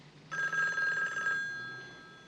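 A telephone in a 1986 crime drama gives a single short electronic bell ring, clear and fairly close, then fades into quiet room tone.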